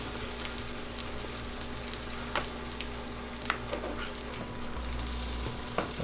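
Keto bread dipped in egg wash fries in a sprayed pan for French toast, a steady close sizzle with a few small pops and crackles and no talking.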